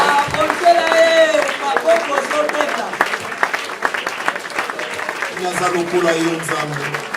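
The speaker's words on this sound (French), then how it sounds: "acclame-le très très fort, acclame-le très très fort" Church congregation cheering and applauding, loud clapping and shouting voices blended with music and someone speaking over the crowd throughout.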